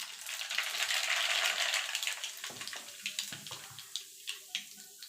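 Nigella seeds tip into hot oil for raw mango pickle with a loud sizzling hiss that rises at once, then thins to scattered pops and crackles as the heat dies down.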